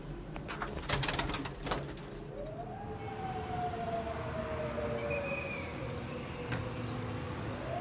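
Pakistani pigeons at a loft calling outdoors, with soft low coos under a steady background and a faint rising whistle-like tone drifting through the middle.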